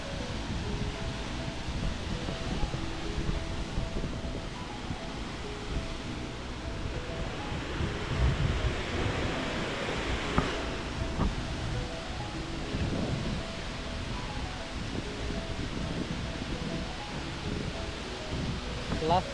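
Aberdeen waterfall in Sri Lanka sends a continuous broadband rush of falling water, steady and enveloping for the whole stretch with no clear breaks.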